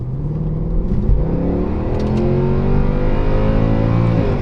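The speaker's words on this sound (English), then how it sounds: "the car definitely still has all its power, still running okay" A Mercedes C63 AMG engine revs hard and pulls strongly under acceleration, a loud, steady, close roar with rising engine tones after a broken intake valve was replaced.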